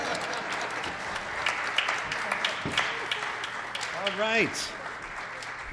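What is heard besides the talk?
studio audience clapping to fill time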